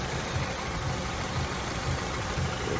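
A Honda car engine running in limp mode, a steady close-up idle rumble with an even low throb and no pauses.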